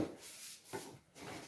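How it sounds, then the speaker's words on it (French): A chair scrapes and rubs across the floor in a few soft, rough bursts with brief pauses between them, fairly faint in a quiet room. "Pardon pour le bruit de la chaise."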